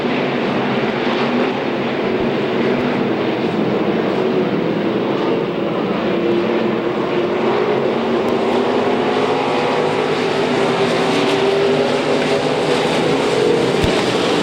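IMCA stock cars race around a dirt track in a steady, loud engine roar that barely rises or falls across the whole stretch, several cars droning together with no voices heard.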